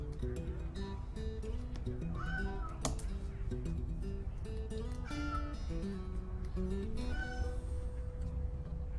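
A cat meows repeatedly in a room, several drawn-out, rising and falling meows spread across the clip over a steady hum of background noise.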